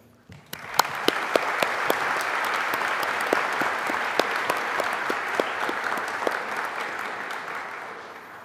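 An audience at a University of Adelaide graduation ceremony breaks into applause for staff, starting abruptly and holding steady and full, with a few sharp individual claps standing out near the front.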